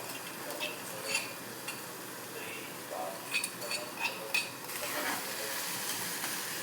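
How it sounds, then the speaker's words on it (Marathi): Coriander powder and thecha, a coarse crushed chilli paste, are sautéed in a pan with clinks of a spoon scraping and stirring over a steady low sizzle, with brief spoken words. "चांगलं परतून घ्यायचं आहे."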